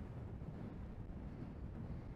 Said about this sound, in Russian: Но ветер жесть.